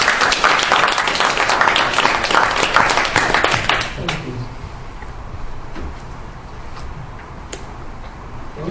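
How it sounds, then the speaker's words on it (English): Audience applause greeting a guest speaker named George at a talk on weight loss; loud, dense clapping for about four seconds, then dropping to scattered, fading claps. "let's give a nice round of applause for George"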